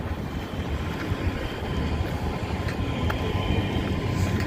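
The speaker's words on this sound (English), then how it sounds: "It's the only tram in Stockholm." Stockholm's single tram line rolls past on a city street, a continuous broad rumble of wheels and motor that holds steady throughout with some wind noise, and no talk.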